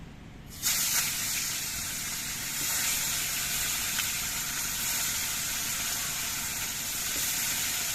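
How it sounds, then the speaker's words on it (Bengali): Koi fish hit hot mustard oil in a karahi and erupt into a loud, close sizzle that starts suddenly, then settles into a steady crackling fry and continues without talk. "এবার মাছগুলো আমি ভেজে নেব"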